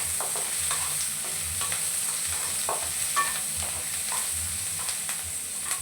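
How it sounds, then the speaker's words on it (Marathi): A medium onion sizzles and crackles in very hot oil while being stirred, with steady frying hiss and occasional scraping taps of the spoon in the pan, close and moderately loud. "तेल कडकडीत गरम झालं की त्यामध्ये आपण 1 मीडियम आकाराचा कांदा घेतलेला आहे आणि कांदा खरपूस होईपर्यंत"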